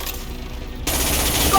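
Rapid automatic gunfire from the Mass Effect 2 video game erupts suddenly partway through, a loud continuous stream of shots over a muffled, rumbling combat background.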